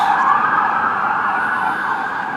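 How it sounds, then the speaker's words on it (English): An ambulance siren wails loud and close, a steady sweeping tone passing by with no break and no talk. "That freaking siren, they just went one way right now, now they're coming back the other way."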